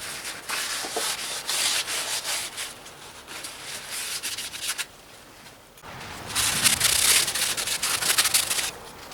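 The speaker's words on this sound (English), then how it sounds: "Just gonna clean up this rotor a bit. With some brake clean." A brake rotor on a 2003 GMC Sierra or Chevrolet Silverado 2500 pickup is wiped down with brake cleaner. Brisk, close rubbing strokes come in two bursts with a brief lull between them.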